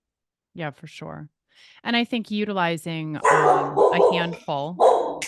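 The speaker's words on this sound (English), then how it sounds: "Sorry, that's my dog." A pet dog barks repeatedly at close range during a home video call, sharp yips and bow-wows mixed in with someone talking over them.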